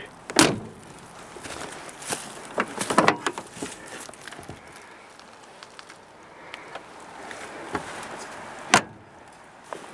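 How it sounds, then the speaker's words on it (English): Doors on an old four-door sedan at a salvage yard open and slam: several sharp metallic clunks and latch clicks spaced over ten seconds, with quieter rattles between them against a low outdoor background. "let's see what the door sounds like."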